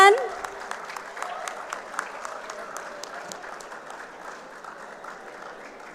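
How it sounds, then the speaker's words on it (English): Audience applause at a WordCamp Nepal conference, a steady wash of many hands clapping that starts loud and slowly thins out over six seconds, with a voice faintly audible underneath. "Please give him a warm round of applause,"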